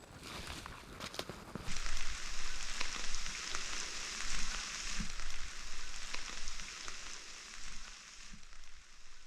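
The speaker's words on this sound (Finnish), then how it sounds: "sade rupeaa hiljalleen helpottaa" Rain falling at night on a lakeside kayak camp at Puula, Finland, a steady close patter on a surface, probably a tent or tarp, with scattered louder drops and no talk.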